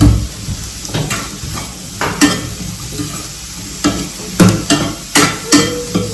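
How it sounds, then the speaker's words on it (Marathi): Sweet corn frying in a pan, with a loud close sizzle and a series of sharp scraping and clinking strokes from stirring against the pan, irregular and without speech. "स्वीट कॉर्न आणि हे पण मस्त ना फ्राय करून घेऊ मऊ करून घ्यायचं आहे"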